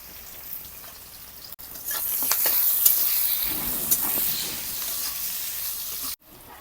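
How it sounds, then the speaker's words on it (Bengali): Black cumin, chopped onion and slit green chilli hit hot oil in a pan, bursting into a loud steady sizzle with light stirring scrapes, close up and continuing for several seconds. "অল্প কালো জিরা, কুচি করা পেঁয়াজ, চেরা কাঁচা লঙ্কা দিয়ে দিলাম।"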